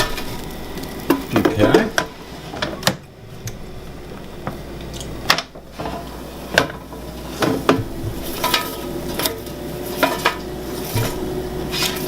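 Food being shaken in the basket of a dual-basket 9-quart air fryer, with rattling, scraping clatter and sharp metallic knocks, one person briefly speaking.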